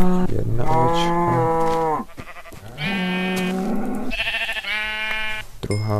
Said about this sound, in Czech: Druhá ovečka a třetí ovečka.